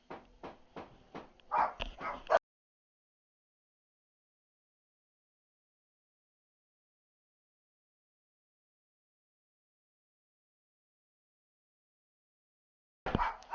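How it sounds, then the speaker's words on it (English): Dogs barking in short bursts, a quick run of yips and barks at the start and another burst at the very end, separated by a long stretch of silence. "Sorry, dogs are going crazy."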